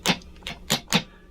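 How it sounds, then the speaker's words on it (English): Palm-muted guitar strum in a down-up pattern, the palm resting against the bridge: four short, dry, percussive chops, fairly close and moderately loud, each one quickly damped. "So it's going to be a down up, like that, muted strum"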